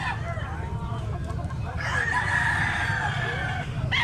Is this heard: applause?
no